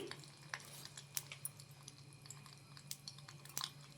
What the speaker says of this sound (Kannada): ಎಣ್ಣೆ ಬಿಸಿಯಾಗಿದೆ ಈಗ ಸಾಸಿವೆ ಹಾಕೊಳ್ತಾ ಇದ್ದೀನಿ